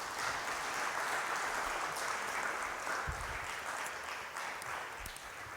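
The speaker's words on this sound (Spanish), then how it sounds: "Vamos a darle un aplauso al Señor Jesús." A church congregation applauds in a continuous, even wash of clapping that stays steady and somewhat distant for several seconds, with no speech on top.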